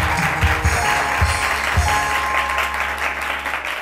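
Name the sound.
studio audience applause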